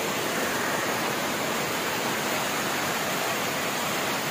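A steady, loud wash of hissing heavy rainfall, dripping through, constant and unbroken throughout, with no voices.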